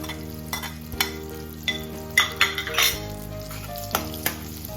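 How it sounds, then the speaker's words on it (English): Chilies and curry leaves sizzle in hot oil for poha, a steady crackling fry punctuated by several sharp clinks of a spoon against the pan, close and fairly loud with no speech. "And now I will add on the chilies and the kadhi patta."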